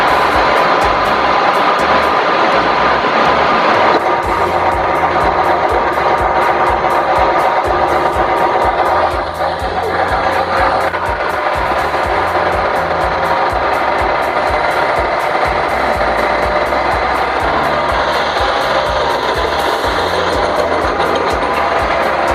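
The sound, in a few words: SGJ1100RPA single head wide belt sander sanding solid wood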